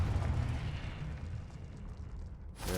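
Confringo spell explosion in the Hogwarts Legacy video game, a deep rumbling blast that decays over a couple of seconds, followed by a sharp bright burst at the end.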